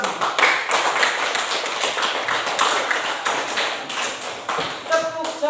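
Classroom group clapping for a student named Putra after he answers, steady rhythmic hand claps close by, with a brief voice near the end.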